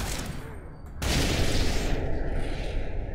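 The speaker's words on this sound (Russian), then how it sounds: "Да, это был выстрел." Gunfire in the game Deus Ex: Mankind Divided, a dense burst of shots layered over continuous noisy game ambience, with a sharp rise in loudness partway through that stays high to the end.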